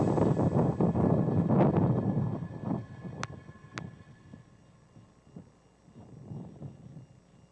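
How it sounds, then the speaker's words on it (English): A SpaceX Falcon 9 rocket lifting off from Space Launch Complex 4 East at Vandenberg on a Starlink mission, a deep broad roar that is loud at first and then fades toward a distant rumble, with two brief high tones partway through. "successful liftoff of Falcon 9 from Space Launch Complex 4 East at Vandenberg"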